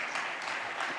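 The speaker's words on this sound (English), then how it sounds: "you may clap." Audience members at a medical case discussion on IBD therapies give a short burst of clapping, a brief, moderately loud patter of hands with no speech.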